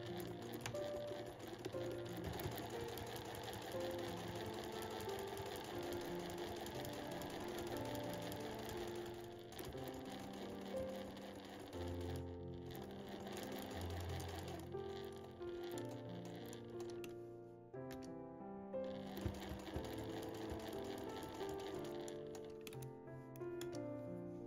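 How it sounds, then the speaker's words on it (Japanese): A sewing machine stitches along the edge of a handmade tote bag with a flap, lining and gusseted bottom, running in steady mechanical bursts with brief pauses, close and clear, with no talking. "そしたらここの際を縫います。"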